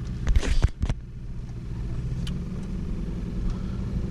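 Lexus GS400 V8 with an exhaust leak, a low steady rumble of the engine running or cruising, with a couple of louder bursts near the start before settling into an even drone.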